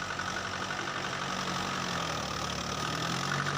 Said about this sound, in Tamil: இன்ஜின் சவுண்டு ஆகும்.